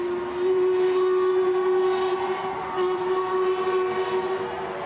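The Prince Elizabeth steam train's whistle sounds continuously for several seconds from the Chelsea River Bridge, a steady loud tone with slight wavering, rising at the start and holding throughout.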